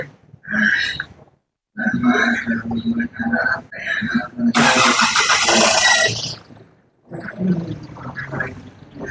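A Hyundai Starex SVX CRDi diesel engine idles during an engine oil flush, a steady low mechanical hum under nearly continuous talk, with a louder broadband roar surging briefly midway.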